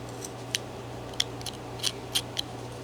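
A carving knife slicing into wood while shaping a figure for a wedding scene carving, giving about six short, sharp cutting clicks spaced irregularly, close and fairly quiet over a steady low hum.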